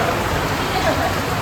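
Heavy rain falls steadily during a monsoon road trip between Shillong and Guwahati, a dense, constant hiss of drops with no letup.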